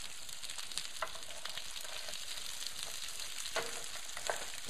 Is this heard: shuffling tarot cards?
no